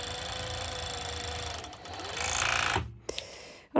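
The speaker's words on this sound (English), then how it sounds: "since I have a serger, this step is very fast for me." A serger stitches two pieces of fabric together in a close, steady mechanical whir that speeds up briefly, then stops abruptly, followed by a couple of short clicks and a thump.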